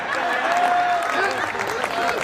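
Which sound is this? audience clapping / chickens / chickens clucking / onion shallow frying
audience clapping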